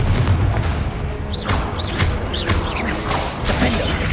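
Confringo spell blasts in Hogwarts Legacy during a busy duel, a string of whooshing bursts and booms mixed with rising whistles and clatter, loud and layered with no clear pause.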